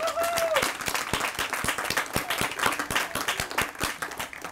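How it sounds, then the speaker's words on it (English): A crowd applauds a police department at a National Night Out event, many hands clapping steadily and fairly loudly, with scattered cheers and a brief whistle near the start. "Let's give them a round of applause"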